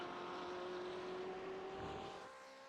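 A Buckeye Endurance 07 BMW race car drones steadily on the Silverstone circuit, a sustained engine tone holding level before fading slightly at the end, with no voices.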